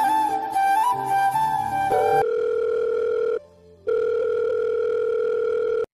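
A telephone ring tone sounds in an audio love story: a steady electronic tone rings for a long stretch, pauses briefly, then resumes, following a few seconds of soft musical tones.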